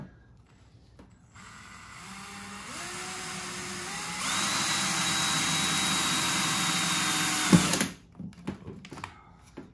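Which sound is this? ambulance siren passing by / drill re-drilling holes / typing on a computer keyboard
drill re-drilling holes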